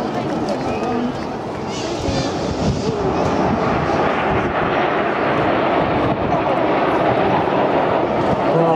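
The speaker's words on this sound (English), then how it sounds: "But you'll see close the Clacton Air Show today, it's the Eurofighter Typhoon." Eurofighter Typhoon jet roaring overhead at a seaside air show, a loud continuous rumbling roar throughout with a crowd and an announcer's voice audible beneath it.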